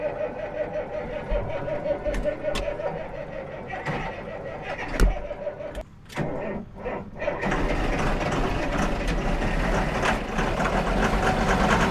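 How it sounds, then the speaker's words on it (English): A cold-blooded diesel tractor engine, started with a shot of ether, runs at a steady rumbling idle nearby, with a brief dip and clatter before the running sound thickens and continues. "Oh well, had to use a little ether, but it's running."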